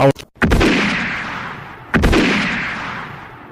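Two loud gunshots ring out in a dramatized audio story, each a sharp blast followed by a long echoing decay, about a second and a half apart.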